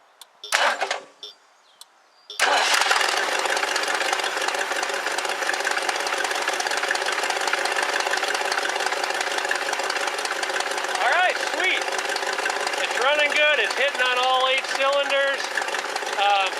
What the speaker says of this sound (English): I'm going to go inside the car and make sure it starts from the inside.